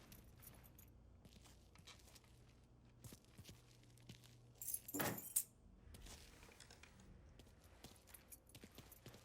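Keys jangle briefly as they are grabbed in Mafia III, a short bright metallic rattle near the middle, close and isolated over a quiet room tone with faint footsteps.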